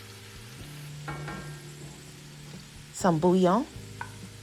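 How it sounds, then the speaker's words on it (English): Chopped onions, crushed garlic and turmeric fry in olive oil with a soft, steady sizzle and occasional stirring scrapes. A voice speaks briefly over it near the end. "cook your chopped onions and crushed garlic in the oil for about 2 minutes or until fragrant"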